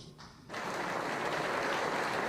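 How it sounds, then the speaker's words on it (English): Assembly applauding a speech by Yasser Arafat's side, a dense, steady wash of clapping that starts abruptly after a brief quiet moment and holds at even loudness to the end. "His comments won him applause from leader Yasser Arafat and the assembly."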